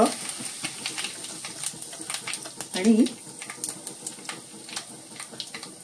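Mustard seeds, cumin, asafoetida and turmeric crackling in hot oil for a phodni tempering, a rapid series of sharp pops and spits over a soft sizzle, with someone speaking briefly.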